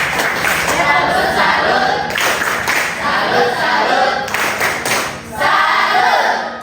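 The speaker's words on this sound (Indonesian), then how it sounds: "Tepuk salut untuk Elis." A high school class performs a rhythmic clapping cheer in unison, bursts of patterned group claps and voices chanting together, loud and close, pausing briefly between phrases.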